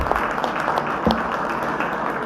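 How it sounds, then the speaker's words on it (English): Steady audience applause filling a hall at an electric vehicle expo in Bengaluru, dense sustained clapping from a large crowd at an even level throughout. "Can we all give a huge round of applause?"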